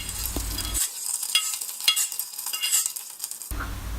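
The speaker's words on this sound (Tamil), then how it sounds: "இப்போ உளுந்தும் நல்லா வறுபட்டுருச்சு." Urad dal stirred and dry-roasted in a pan on the stove, giving a steady close-up scraping and gentle sizzle throughout with no talking.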